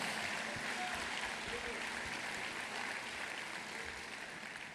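A church congregation at a Sunday service claps in a steady, broad wash of applause that carries evenly throughout, heard from a distance in a large, reverberant hall.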